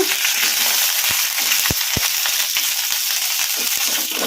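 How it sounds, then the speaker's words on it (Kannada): Green chillies fry in hot oil for a spicy masala fry, giving a steady, dense sizzle throughout with a few sharp pops and crackles and no voices. "ಹಸಿಮೆಣ್ಸಿನ್ಕಾಯಿ ಈಗ ಇವನ್ನು ಹಾಕೋಣ ಎಣ್ಣೆಗೆ ಕಲಿಸ್ಕೊಂಡ್ಬಿಡೋಣ"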